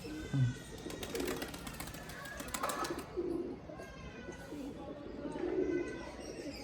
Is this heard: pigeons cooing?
yes